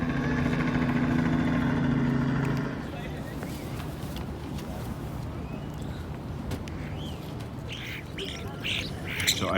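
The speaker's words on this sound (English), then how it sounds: "So I'm being attacked by birds who want the rest of my cannoli." Birds squawk and call in an outdoor spot at Pike Place Market, crowding in after a peanut butter cream cheese cannoli; intermittent bird cries over steady market crowd noise, with talking in the first few seconds.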